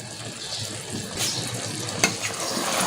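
Chicken chana daal sizzling and frying in a pan while being stirred, a steady close hiss with occasional scraping clinks of the spoon, no voices.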